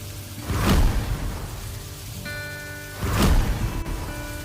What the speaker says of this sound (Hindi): एक बार बारिश बहुत तेज होने लगी।